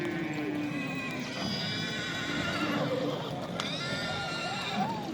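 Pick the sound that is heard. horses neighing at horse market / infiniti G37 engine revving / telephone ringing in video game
horses neighing at horse market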